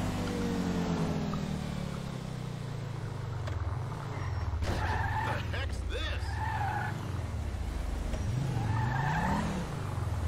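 A car in GTA 5 skids and gets stuck, tires squealing as the engine revs and bogs in uneven surges, loud and close, with people talking over it.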